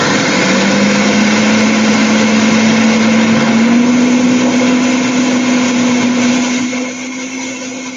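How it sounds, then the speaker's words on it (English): A loud blender whirs continuously as it blends frozen peas into a chunky mixture, holding a steady high-pitched motor tone that rises slightly midway and eases off near the end. "I'm just going to keep blending"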